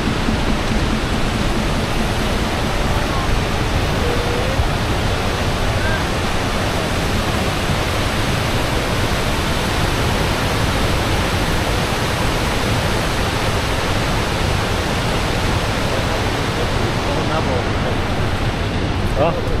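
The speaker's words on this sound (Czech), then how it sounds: "Vodopád Latefossen." Låtefossen waterfall in Norway roars in a steady, dense wash of falling water, loud and close, unchanging for the full twenty seconds with nothing else standing out.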